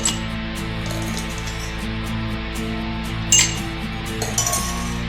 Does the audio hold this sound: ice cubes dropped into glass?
yes